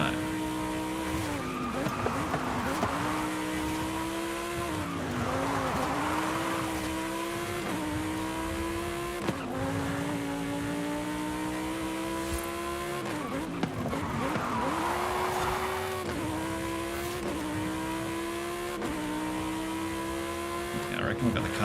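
A race car in a racing video game drives on, its engine whining and shifting pitch as it revs through gears, with repeated tire squeals through corners over roughly twenty seconds of steady, mid-level game audio.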